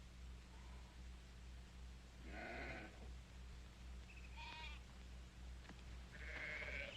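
Several sheep bleat one after another at a moderate distance, over a steady low hum and background hiss.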